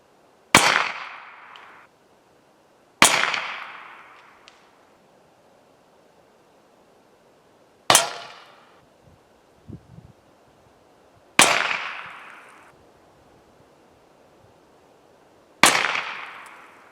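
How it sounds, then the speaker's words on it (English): Five sharp, loud gunshot cracks from .22 rimfire rounds fired through a 16 gauge drilling at cans, spaced a few seconds apart, each with a quick ringing decay and quiet between shots. "I'm going to see how many shots it takes to puncture each of these cans."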